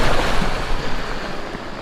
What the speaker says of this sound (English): So here comes the water.